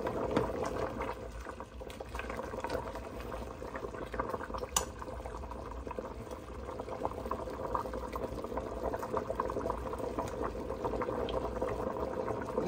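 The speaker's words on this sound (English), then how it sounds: "I let it boil for some minutes." Eddo soup bubbling at a steady boil in a pot, a continuous dense churn of liquid with a faint clink near the middle, close and even throughout with no talking.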